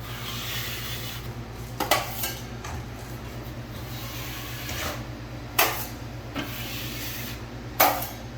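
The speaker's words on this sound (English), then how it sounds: "I'm just sliding that knife down" A drywall knife drags across wet joint compound on a wall seam with soft scraping rubs, punctuated by a few sharper clicks and taps of the blade, close and fairly quiet.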